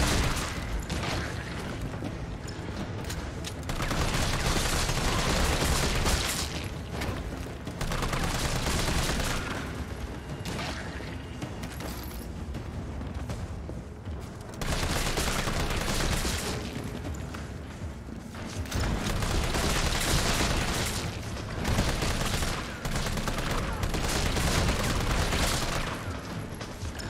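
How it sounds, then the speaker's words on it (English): Gunfire in the Resident Evil 3 video game comes as repeated loud bursts of shots in clustered volleys, sustained across the whole stretch with brief lulls between attacks. "I just was shooting him in the fucking head"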